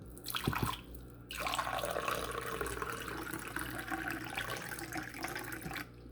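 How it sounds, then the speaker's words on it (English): Filtered water runs steadily in a continuous stream into a one-cup measure for several seconds after a brief knock, then cuts off abruptly. "I'm going to use filtered water here, and I'm going to put exactly 1 cup in here"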